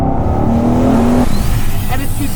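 Turbocharged HSV ClubSport R8 with a forged, stroked 6.6-litre 403 cubic inch LS engine and BorgWarner S400 76mm turbo, giving a loud, close engine roar that holds a steady drone then drops off, with some talk over it.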